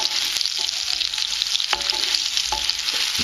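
Potatoes fry in hot oil in a pan for a chicken madras, a steady close sizzle with a few scraping knocks from stirring, and no voice over it.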